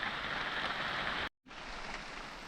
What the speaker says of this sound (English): the rain just won't quit. It's raining again